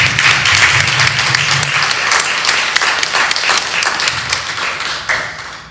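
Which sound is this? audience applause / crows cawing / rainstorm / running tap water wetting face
audience applause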